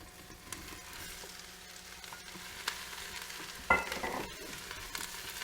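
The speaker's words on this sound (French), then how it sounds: "On mélange bien et on le fait également revenir 5 petites minutes avec les oignons" Chopped leek sizzling gently with onions in olive oil inside a Moulinex Cookeo pot, a soft steady frying hiss with a louder clatter of stirring near the middle, no voices.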